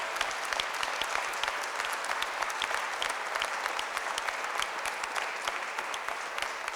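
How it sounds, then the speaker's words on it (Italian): A hall audience at a conference for a choir's sixtieth anniversary breaks into sustained, even applause, with many hands clapping steadily in a crisp, full wash of sound. "facciamo un applauso."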